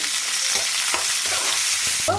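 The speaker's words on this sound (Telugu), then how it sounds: "పచ్చిమిరకాయలు వేసానండి" Green chillies fry in hot oil for a traditional drumstick, green pea and tomato curry, giving a loud, continuous close sizzle with repeated scraping stirs in the pan and no talking.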